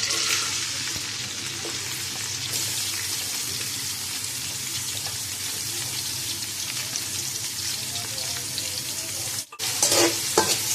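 Onions fry in hot oil with a constant loud sizzle and occasional crackles, briefly interrupted near the end by a short stirring clatter.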